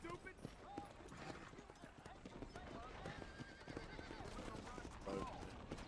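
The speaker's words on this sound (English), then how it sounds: "Hello, horse." Horse hooves clip-clop steadily in a video game, joined by an occasional whinny, set against a constant bed of game sound and voices.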